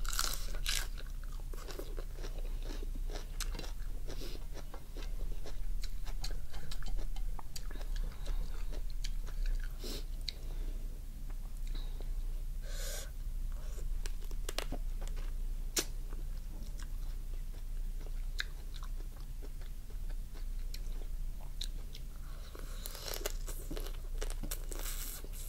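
Spicy lime-cured raw crabs are bitten and chewed up close, with repeated sharp crunches and cracks of shell scattered through steady wet mastication, and no talking.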